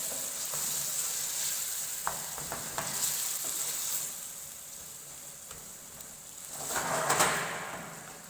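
Red tomato and chili sauce sizzles steadily in a pan while a utensil stirs it, with scattered scraping clicks and a louder surge of frying near the end.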